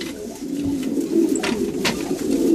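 Racing pigeons in a loft coo steadily at close range, a loud, low rolling burble with a few brief sharper chirps and flutters.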